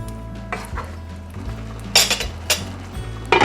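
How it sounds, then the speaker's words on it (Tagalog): Meatballs dropped into simmering tomato sauce in a pot, with scattered clinks and knocks of a utensil against metal and a few sharper clatters over a low background hum. "Now let's add the meatballs into the tomato sauce."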